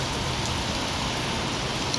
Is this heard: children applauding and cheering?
no